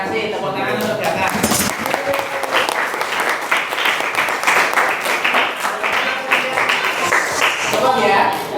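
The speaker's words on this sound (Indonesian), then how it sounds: "Tepuk tangan untuk Gatan." A class of junior high school students applauds in a classroom, loud, continuous clapping throughout with a few voices mixed in.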